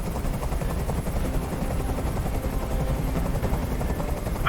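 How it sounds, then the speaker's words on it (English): A hovering helicopter in the game Detroit: Become Human throbs with fast, steady rotor chop, loud and continuous throughout with no speech. "I can't stand that noise anymore. Tell that helicopter to get out of here."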